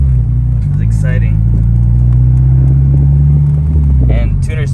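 Supercharged AP2 Honda S2000 with a Kraftwerks v2 kit on its first drive, a steady loud low engine drone and rumble from inside the car, with a few brief voices and cabin noises over it.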